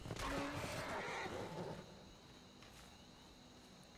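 A horse whinnies in Skyrim, a loud close neigh that sounds for a couple of seconds and then drops away to quiet ambient background.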